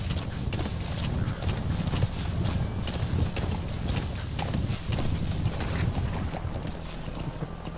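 A horse clip-clops along in Metal Gear Solid V: The Phantom Pain, hooves thudding in a steady rhythm over a rushing wind-like bed, fairly close and continuous with no talk.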